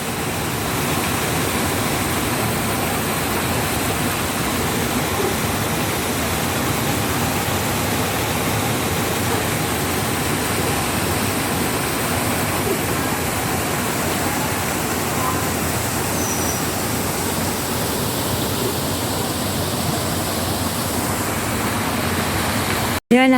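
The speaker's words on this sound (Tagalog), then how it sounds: "Ganda ng falls." Steady, loud rushing of a waterfall fills the scene without a break, a broad continuous roar of falling water heard close by.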